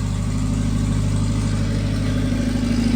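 A car engine idles steadily, loud and close, after a glued head gasket repair, with a continuous low hum and no one speaking.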